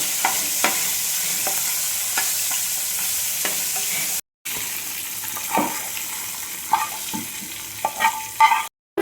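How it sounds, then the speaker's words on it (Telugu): Gongura chutney with asafoetida being stirred in a pan, soft scraping strokes and light sizzling with a few sharper clinks near the end, heard alone with brief gaps. "ఒకసారి కలుపుకోవాలి."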